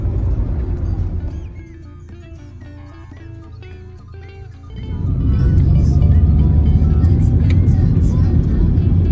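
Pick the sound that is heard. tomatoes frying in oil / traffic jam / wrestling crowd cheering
traffic jam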